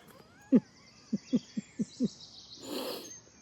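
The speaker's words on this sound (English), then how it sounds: "Oh, the birds. They're my choristers today. They're singing divine cantatas." Birds call outdoors in a short series of six low, hoot-like notes spaced irregularly over two seconds, with faint higher chirps and a brief rushing noise afterward.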